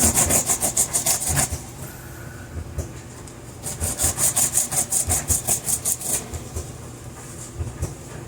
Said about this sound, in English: as we do our zucchini and shred it